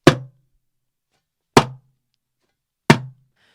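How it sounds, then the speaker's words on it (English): Slap strokes on a darbuka: three sharp, muted, dry hits spaced about one and a half seconds apart, each decaying quickly into silence, close and alone. "The slap sounds like this."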